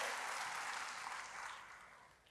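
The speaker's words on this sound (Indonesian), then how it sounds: "Sekali lagi berikan tepuk tangan bagi Tuhan" A church congregation applauds during a sermon at a worship service, a dense, steady wash of many hands clapping that gradually thins and fades toward the end.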